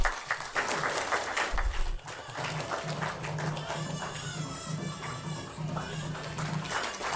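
Audience applause fills a hall at a Tamil book launch honouring a former judge, a dense sustained wash of many hands clapping at moderate distance, steady throughout with a low hum underneath.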